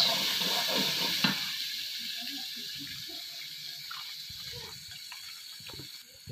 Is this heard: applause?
no